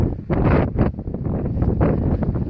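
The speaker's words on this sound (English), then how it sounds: "It's really windy." Strong gusts of wind on the top of Hump Mountain buffet the microphone in loud, rumbling bursts that rise and fall without pause.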